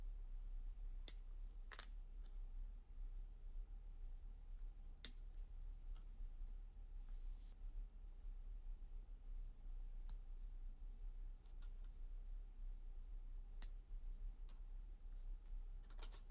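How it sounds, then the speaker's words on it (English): Sprue cutters snip tire parts of an M8 Greyhound model kit off the sprue: a few faint, sharp isolated clicks spaced seconds apart over a quiet, hissy room background, with no voices. "let's take the sprue cutters and cut away at the tires."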